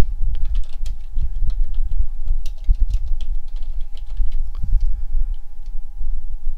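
Someone types a command for the RK Hunter rootkit scanner on a computer keyboard in Ubuntu: a steady run of light, close key clicks with uneven rhythm over a low background hum.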